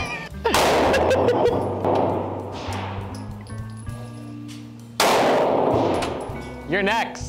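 Pistol shots fired at a home range, two loud sharp reports about five seconds apart, each followed by ringing decay, with people talking in between.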